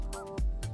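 Duck near a fishing spot giving a couple of short, nasal honking calls, fairly close and otherwise alone.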